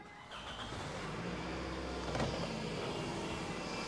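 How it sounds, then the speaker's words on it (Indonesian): A 2006 Toyota Harrier G automatic with 116,000 km idles steadily with a low, even, smooth hum and no revving, quiet and close by. "Suara mesinnya masih halus sekali."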